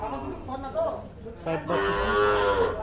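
A cow at a cattle market bellows in two long moos, close and loud, amid the murmur of people talking nearby.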